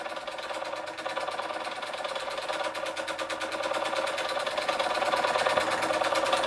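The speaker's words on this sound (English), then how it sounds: "Empire B-33 chugging away quite nicely after its restore" A restored Empire B-33 model steam engine runs steadily, its fast, even mechanical chugging close and continuous, growing slightly louder toward the end.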